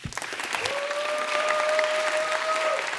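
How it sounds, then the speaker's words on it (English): A demo day crowd claps to welcome two presenters on stage, a dense, sustained round of applause building slightly in volume, with a faint whistle-like tone running through it and no talking. "Let's give them a big round of applause."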